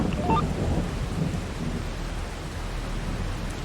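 Steady rain in the video game Farming Simulator 22 falls with a soft, even hiss and a low rumble of thunder, fairly quiet and continuous.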